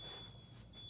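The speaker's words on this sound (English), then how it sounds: "that's the fucking smoke detector" A smoke detector gives a steady, high-pitched electronic tone, running continuously and faint beneath a low room hum.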